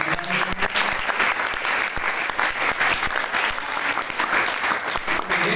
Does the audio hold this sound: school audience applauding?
yes